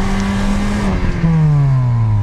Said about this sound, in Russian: Давай сейчас на двух самоблоках попробуем сюда.